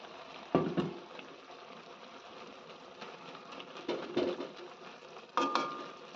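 A pot of homegrown gourd greens with coriander leaves bubbles at a soft, steady simmer, with a few louder clanks and stirring knocks standing out now and then.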